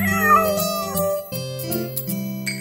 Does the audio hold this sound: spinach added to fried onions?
no